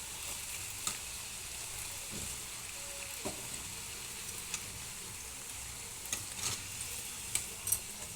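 Jaggery karjikaya fry in oil that has grown too hot, giving a steady, close sizzle and bubbling. A few faint ticks and light stirring taps come through now and then.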